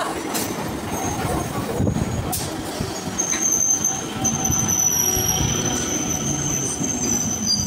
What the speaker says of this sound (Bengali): কিছুক্ষণের মধ্যেই প্রবেশ করলো ডাউন মেদিনীপুর হাওড়া লোকাল